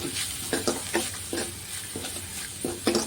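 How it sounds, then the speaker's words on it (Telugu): Onions sizzle in a pan with half a spoon of turmeric, a steady frying hiss broken by repeated scraping stirs at a roughly even rhythm, close and fairly loud with no talking. "తర్వాత ఇందులోనే ఒక అర స్పూన్ పసుపు వేసుకొని బాగా వేయించుకోవాలి"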